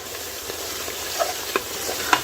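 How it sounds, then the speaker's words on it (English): Onions frying in a pan and being stirred, a constant close sizzle with a few soft scraping and clinking touches of the spoon scattered through it. "You can let this onions fry for about 2 minutes"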